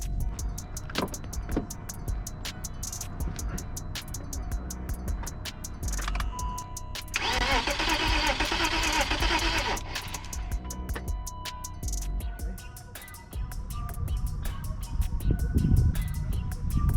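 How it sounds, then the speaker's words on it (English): A BMW E34 525i engine is cranked over by its starter in a burst of about three seconds, with a whirring, rattling starter sound. Quieter clicks and shop noise come before and after. "crank it over a couple of times before I actually start it to prime it"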